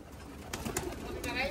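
Racing pigeons arrive outdoors during a Capistrano Classic one-loft race, with a few brief flutters and soft bird calls over steady background noise while people talk nearby.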